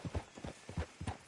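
A horse in the video game Red Dead Redemption 2 walks with a crisp clip-clop, its hooves striking in quick, close paired beats over a short stretch with no voices.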